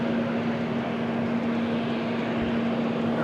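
An Austrian Airlines jet idles at the airport, a steady distant engine drone with a constant tonal hum running evenly and unchanged throughout, with no voices.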